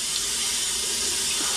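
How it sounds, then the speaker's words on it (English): Cold tap water runs steadily in a sink while an artichoke is washed: a continuous, close, loud hiss and splash with no breaks. "And it said to wash it with cold water."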